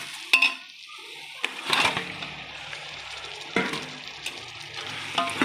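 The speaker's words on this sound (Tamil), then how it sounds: "மட்டன் போட்டு கிளறி விட்டுடலாம் நல்லா" Mutton stirred and fried in a pan with onion and tomato, soft sizzling punctuated by clanks and scrapes of a utensil against the pot, close and moderately loud, no talking.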